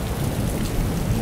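Steady rain falls with rumbling thunder throughout, a dense continuous wash at fairly close range during a quarrel between a husband and wife, with no voices.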